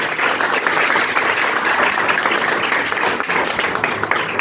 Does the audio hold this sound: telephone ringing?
no